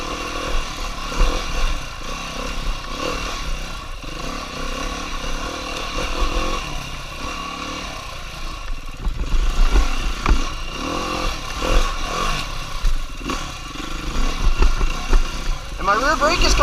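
A dirt motorcycle rumbles and revs along a single-track trail through fall woods, engine pulsing and rising in uneven bursts, with a rider talking over it throughout.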